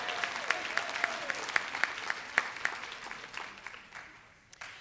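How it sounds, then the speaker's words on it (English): A conference audience breaks into sustained applause, dense rhythmic clapping heard from a distance in a large hall, holding steady before thinning out toward the end, with no voices over it. "Now we clap."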